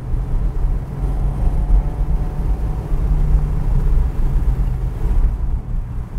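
A Mazda Roadster RF with a 2-litre engine drives along, a steady low cabin rumble of engine and road noise that stays constant throughout, with no talking.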